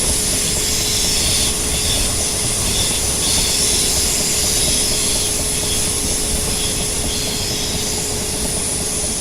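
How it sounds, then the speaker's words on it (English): In the Train Simulator game, a Southwest Trains service pulls into London Waterloo from Hampton Court with a loud, steady hum of traction motors and a sustained whine, running continuously without talk. "And we're arriving at London Waterloo for the first time on Train Simulator"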